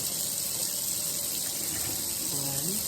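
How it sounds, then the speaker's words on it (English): Tap water runs steadily into a sink while hands are washed, a continuous close hiss with faint splashing, and a voice comes in briefly near the end. "wash your hands"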